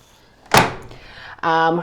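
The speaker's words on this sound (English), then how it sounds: "I forgot to close the door" A single sharp thud of a washing machine door shutting, followed by a short electronic beeping tone; close and fairly loud.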